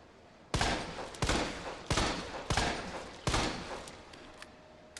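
Five sharp gunshots ring out in Resident Evil 2 Remake, spaced about a second apart in an uneven rhythm, each loud and close with a short decaying tail over quiet background.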